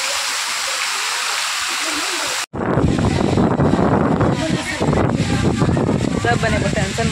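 Water rushes steadily at a clear pool-like spot at a gurukul in Surat, Gujarat, a constant close hiss that cuts out briefly and returns louder and fuller.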